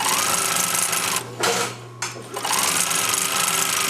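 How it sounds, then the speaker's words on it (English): A sewing machine stitches fabric for understitching a seam, running in a loud steady mechanical whir, pausing briefly midway, then resuming at the same even pace. "you stitch it right next to the first line of stitching."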